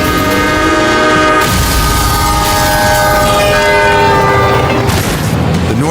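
A northbound train sounds its horn in loud, sustained blasts as it nears a level crossing, its harmonic tones rising over rumbling wheels and rail noise, with a sharp change in the sound at about a second and a half in.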